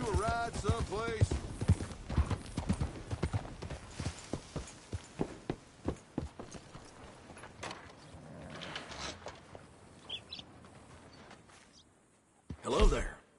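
Clip-clop of horse hooves at a slow walk in the video game Red Dead Redemption 2, with someone talking over the steady hoofbeats at first.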